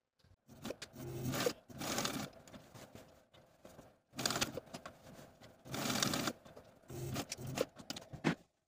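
A sewing machine stitching the straps of a fabric tote bag, running in several short close bursts separated by brief pauses, with no talk over it.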